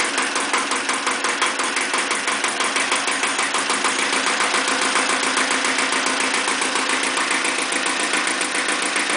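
An Iseki tractor engine idles steadily at around 900 RPM, a loud, close, even mechanical chug with a fast regular pulse that holds unbroken throughout.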